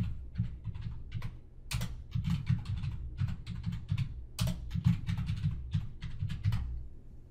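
Quiet, close typing on a computer keyboard, with steady runs of soft key clicks broken by short pauses and a few sharper key strikes.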